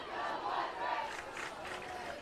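Woodbridge High School football crowd roaring steadily from the stands, a dense, continuous wash of cheering voices that swells and dips without pause.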